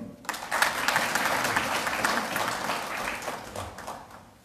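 An audience at an economic conference in Burkina Faso breaks into sustained applause, a dense wash of many hands clapping that starts abruptly, holds steady and slowly fades over several seconds.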